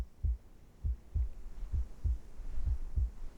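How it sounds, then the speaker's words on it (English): A slow, steady heartbeat effect from the video game Reverse 1999, with low, muffled thumps repeating about every half second over a quiet hum, and no talking. "Sounds like a heartbeat."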